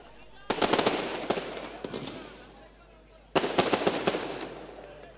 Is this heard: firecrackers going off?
yes